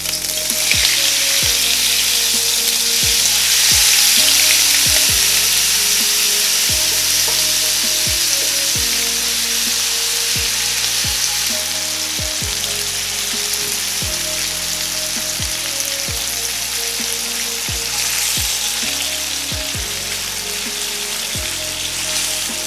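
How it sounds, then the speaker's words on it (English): Marinated pork bulgogi frying in hot oil in a pan over medium-high heat, a loud, continuous dense sizzle with rain-like crackle, close and steady throughout with no voices. "put cooking oil, this amount, and when it's hot, put marinated meat on the pan"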